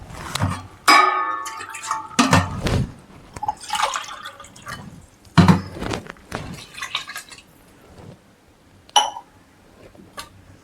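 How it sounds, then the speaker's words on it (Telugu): Water from soaking rice is poured into a pot of rice for vegetable pulao, with splashy pouring bursts and clinks of a vessel coming in separate close, loud spurts. "నాకు ఇక్కడ ఇవి బియ్యం నానబెట్టిన వాటర్ 2 గ్లాసులు వచ్చినాయి కాబట్టి ఇంకొక 1/2 గ్లాస్ వేసుకుంటా."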